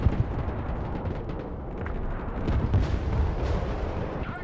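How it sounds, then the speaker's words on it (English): Rumbling, crackling barrage of MLRS rocket artillery fire in a real-time strategy war game, a dense continuous roar with heavier booming swells toward the end, loud and alone without talk. "MLRS ready to fire."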